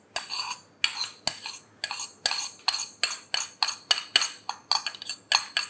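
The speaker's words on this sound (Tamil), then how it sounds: "இந்த லெமன் ஜூஸையும் ஹனியையும் வந்து நீங்கள் நல்லா மிக்ஸ் பண்ணணும்." A spoon clinks rhythmically against a bowl while mixing lemon juice and honey for a homemade face wash, about a dozen sharp, evenly spaced taps close to the mic with quiet gaps between.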